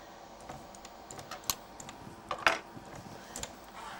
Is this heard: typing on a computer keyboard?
yes